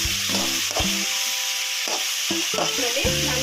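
Chopped tomatoes going into vegetables frying for upma: steady close sizzling with repeated scraping stirs of a spatula against the pan.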